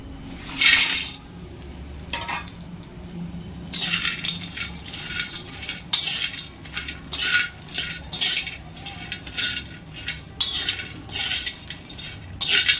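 Dried dates roasting in ghee in a pan for dry fruit ladoo, heard as repeated bursts of metal spoon scraping and clattering against the pan over a low background sizzle, close up with no voices.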